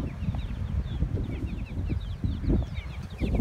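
Free-roaming chickens in a village in Erciş, eastern Turkey, cluck in a busy, overlapping chatter of short calls, fairly close, with no talk.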